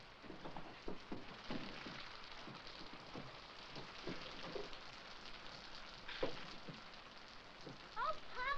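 Steady rain falls on a farmhouse with a leaking ceiling, a soft, even patter with scattered heavier drips and taps close by, fairly quiet and without talk.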